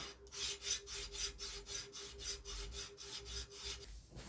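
Steady rhythmic rasping strokes of a forged knife blade drawn back and forth across a diamond sharpening plate, about a dozen even passes, close and clear, then stopping.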